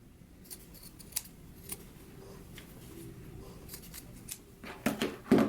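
Scissors snip close by through sewn skirt waistband fabric, a few soft cuts spread out, then a louder cluster of crisp snips near the end over faint room noise.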